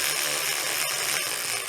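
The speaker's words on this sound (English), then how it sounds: "So let's pull these bolts out" Ratchet wrench backing bolts out of a rear axle differential cover, a dense continuous mechanical buzz of clicking pawls, loud and close, with a brief knock partway through and no talking.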